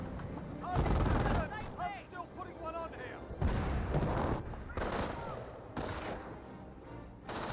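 Bursts of gunfire rake a Panzer Grenadier infantry squad in the Company of Heroes strategy game, with sharp rattling volleys and booms in clusters, mixed with in-game unit voices.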